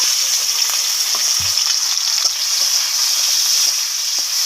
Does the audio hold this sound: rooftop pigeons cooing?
no